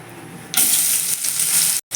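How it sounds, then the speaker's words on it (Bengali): Chopped onion drops into hot oil already tempered with two bay leaves and whole garam masala for chicken biryani, bursting into a loud, close, steady sizzle with a brief break near the end. "এবার আমি এখানে পেঁয়াজ কুচি দিয়ে দিচ্ছি"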